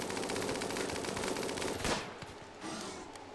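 A Centipede mech fires its minigun in the video game RimWorld, a rapid continuous burst of gunfire that cuts off near the end, leaving a quieter tail of scattered shots.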